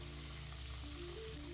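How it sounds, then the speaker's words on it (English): Chicken pieces frying in a pan of hot oil, a steady soft sizzle and crackle with no talking, fairly quiet and continuous throughout. "Now it's time to dip the chicken into the hot oil."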